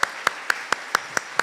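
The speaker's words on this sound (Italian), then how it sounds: "Facciamo un applauso al nostro" Slow, even handclaps in a church, seven sharp claps spaced about a quarter second apart, loud and close with no talk over them.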